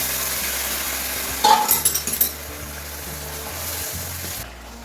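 Shukto vegetables are poured into hot spice tempering, setting off a short burst of crackling sizzle and splashing at about the midpoint, followed by a softer steady frying hiss over a low background hum.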